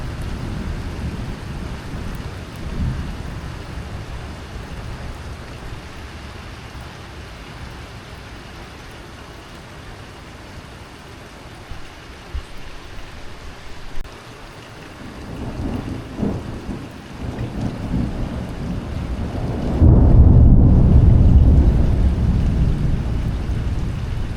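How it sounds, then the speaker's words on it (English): A lightning storm during an olive harvest in Portugal brings steady outdoor rain, low rolling thunder and a loud crack and rumble near the end. "So because of the lightning storm"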